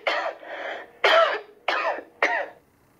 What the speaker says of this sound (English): The person may cough,